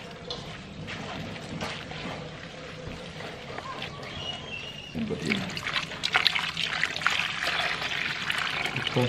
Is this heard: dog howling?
no